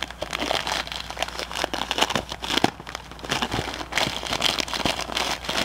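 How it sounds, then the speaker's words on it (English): Plastic wrapping on a box is torn open and crumpled by hand, giving a close, continuous run of crinkling and ripping bursts for several seconds. "I can probably just tear through this thing."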